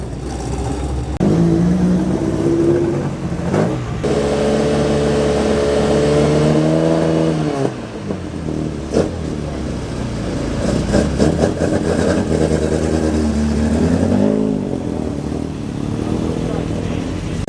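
Classic British racing car engines, including a 1965 Reliant Sabre 6, idle and rev loudly and continuously during noise checks at Oulton Park, rising and falling in pitch, with a sharp blip near the middle.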